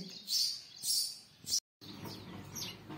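A sparrow chirps near its chicks nesting inside a locked house, giving a few short, bright bursts of chirping at close range with quieter pauses between them.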